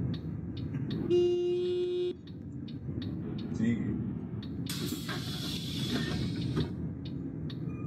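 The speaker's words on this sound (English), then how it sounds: "Oh, why are they honking?" Car horns honk near a city bus in short toots, with one held blast and a later long, harsh horn over steady traffic noise.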